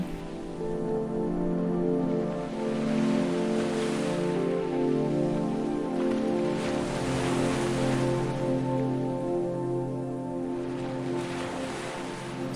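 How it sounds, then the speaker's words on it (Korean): Ocean waves wash in and recede in slow, soft swells under a gentle sustained musical drone, a calm and fairly quiet wash of surf setting the mood for a sleep meditation. "파도가 바다로 밀려 들어왔다가 다시 바다로"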